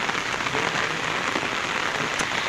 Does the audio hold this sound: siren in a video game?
no